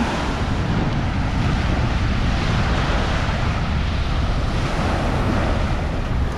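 Rough surf rolls in steadily along Manila Bay, a loud continuous wash of breaking waves with wind buffeting the microphone and no voices.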